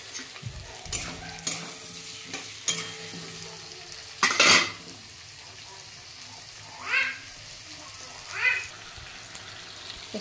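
Chopped tomatoes go into frying onion and capsicum for chilli chicken, with a constant soft sizzle under repeated stirring and scraping in the pan. A louder clatter comes mid-way and a couple of faint cat-like meows follow.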